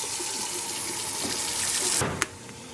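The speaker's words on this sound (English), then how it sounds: "I'm gonna get hot water going in here" Hot water runs steadily from a kitchen tap into a sink, a continuous close hiss and splash that suddenly shifts and drops in level near the end as the flow changes, with no talking.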